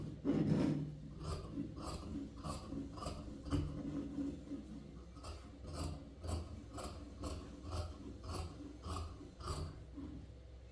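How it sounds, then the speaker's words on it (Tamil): Scissors snip through folded cloth while ladies' pants are cut out for tailoring, a series of short crisp rasping cuts repeating at a steady rhythm, close and fairly quiet, with a louder rustle of fabric at the start. "இங்கேயே நம்ம அந்த ஃபோல்டு பண்ண பக்கத்தை ஓப்பன் பண்ணுற மாதிரி தான் கட் பண்ணணும்."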